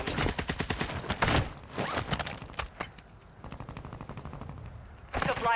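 Gunfire in a battle royale video game, rapid bursts of sharp cracking shots at the start and again midway, quieter scattered shots between, ending with a voice speaking.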